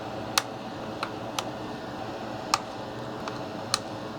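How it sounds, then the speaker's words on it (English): Flush cutters snipping excess component leads on a soldered board from a Samsung 8K TV One Connect box, six sharp, isolated clicks spaced irregularly over a quiet background. "Now the leads are much longer than we want them to be, so we'll cut those off."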